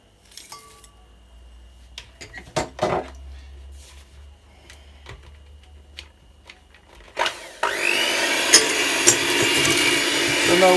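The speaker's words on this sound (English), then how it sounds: "So now we want to get all of the butter and the sugar mixed up." An electric mixer whirs in at the end, loud and steady as it creams butter and white sugar for a ripe plantain cake, after a quiet stretch of scattered knocks and bowl sounds.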